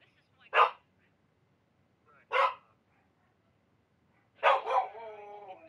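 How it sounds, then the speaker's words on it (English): A dog barks three times at close range, two short sharp barks spaced apart and then a longer bark trailing into a whine, in an otherwise quiet room. "Why do you always have to bark at one time, dog?"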